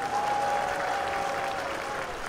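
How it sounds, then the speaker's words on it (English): Steady applause from a stadium crowd at a UAPB vs Morehouse football game, honoring dignitaries, with a faint sustained tone running under the clapping throughout. "let's have a big round of applause for our dignitaries"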